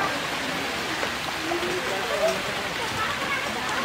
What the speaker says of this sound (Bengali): কিন্তু অবশেষে বৃষ্টি চলে এলো।